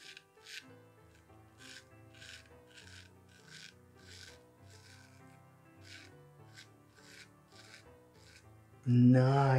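A straight razor scrapes across facial hair in a rhythmic series of short, crisp rasping strokes, close and fairly quiet, ending with a louder rustle.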